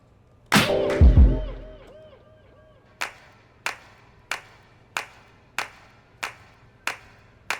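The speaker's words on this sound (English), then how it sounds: "I bounced out the claps" Clap samples in a hip-hop beat strike sharply and loudly in a regular pulse of eight hits, after an opening burst of a heavy booming hit with ringing tones.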